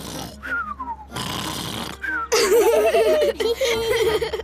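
Cartoon character voice imitating an uncle pig's loud snoring, with drawn-out rasping snore sounds and pitched vocal wobbles over a few seconds, mixed with laughing-like vocal noises.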